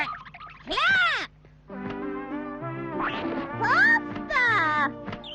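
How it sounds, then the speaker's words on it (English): Cartoon ducks quack in loud, exaggerated, tonal calls, several separate bursts with short gaps between them, backed by sustained musical tones in an animated show. "Quack, quack, quack."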